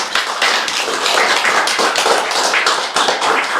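A church congregation claps together in welcome, with many hands making dense, loud, sustained applause from start to finish and a faint rhythmic pulse in it.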